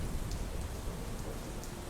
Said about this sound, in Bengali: এর সাথে বজ্রপাত, আর কিছুক্ষণ পর শুরু হয় প্রবল বৃষ্টি।